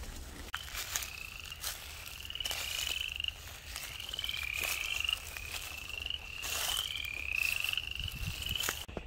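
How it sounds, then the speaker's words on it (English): Upland chorus frogs call in the Georgia countryside, repeated rising creaky trills overlapping in a steady chorus, fairly faint against a low outdoor background rumble. "you could hear lots of what I'm pretty sure was upland chorus frogs calling"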